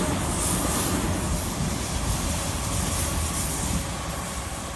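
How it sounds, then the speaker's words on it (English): A Sydney Waratah passenger train rumbles past at night beneath Petersham station bridge, a steady loud roar of wheels on rail with faint squealing, close by throughout and without speech. "Waratah passing, about to pass"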